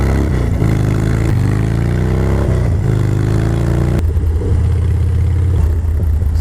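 A Harley-Davidson Dyna motorcycle runs loud and close, its engine rising and falling through revs with a rough, pulsing low rumble and no pauses.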